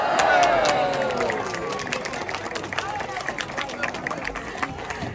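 An audience at a sea lion show at West Midlands Safari Park bursts into loud cheering and applause that swells at first, then settles into a long run of scattered clapping and crowd noise.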